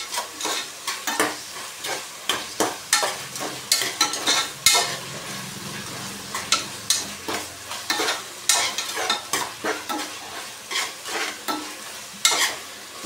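Thick-cut onions frying and sizzling in a pan, with a steady hiss broken by repeated close scraping strokes of a spoon stirring them, no voices.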